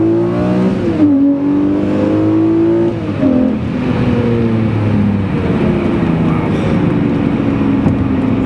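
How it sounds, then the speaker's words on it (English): A 2004 Lamborghini Murcielago V12 accelerates hard, its engine note rising in stepped pitch sweeps with a gear-change dip near the start and again mid-run, loud and close throughout with no talking. "there's pretty brisk acceleration in a 12-cylinder Lamborghini."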